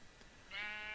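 A single short sheep bleat from the Minecraft modpack All The Mods 3, a faint nasal wavering cry that rises out of quiet background hiss and sounds alone.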